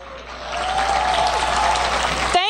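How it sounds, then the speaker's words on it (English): An audience at a kids' cosplay contest during a comic con claps for the Richland County Sheriff's Department, the applause swelling to a steady loud roar before cutting off abruptly near the end. "Let's give a big round of applause to our Richland County Sheriff's Department."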